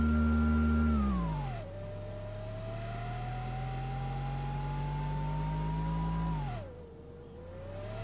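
A Star Citizen ground vehicle drives across grass, its engine holding a steady whining drone that drops in pitch, slowly rises, then falls again, loud and up close with nothing else heard.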